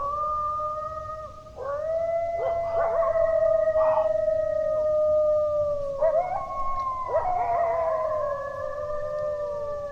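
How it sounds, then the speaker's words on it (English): A pack of coyotes howls at a Michigan public-land deer camp, several overlapping wavering voices rising and falling with yips over about ten seconds, fairly near and loud in the open night. "this pack of coyotes, which sounded like it was probably 50 to 75 yards away from us"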